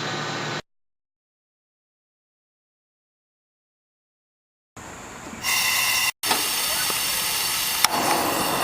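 Onion pieces fry over low heat in a pan, giving a steady hiss and sizzle after a short silence, while someone speaks in French over the cooking.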